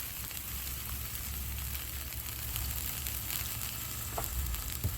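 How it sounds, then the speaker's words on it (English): Water poured on a hot Blackstone griddle steams slices of pepper jack cheese, giving a steady close hiss and sizzle with a few faint clicks, no voices. "Put a little bit of water to steam that cheese."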